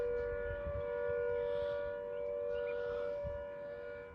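A town siren in Ooty wails with a steady, sustained tone, loud and carrying, over soft background sounds and no speech.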